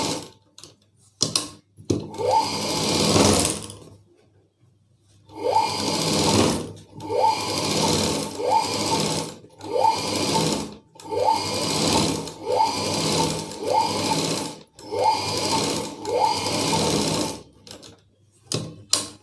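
A sewing machine stitches cloth in repeated bursts of fast, loud mechanical chatter, each run lasting a second or two and separated by short silent pauses, close to the listener.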